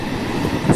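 A passenger train on the Vijayawada to Rajahmundry route runs along in a steady, dense rumble heard from inside the carriage, a brief continuous roar with no voices.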